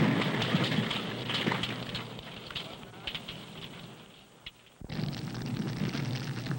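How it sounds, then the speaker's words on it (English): In a nuclear weapons safety test, a confined explosive detonates under intense heat, giving a continuous rough roar and crackle that dips briefly before a sudden loud renewed blast. "Sometimes the explosive detonates because of close confinement and intense heat."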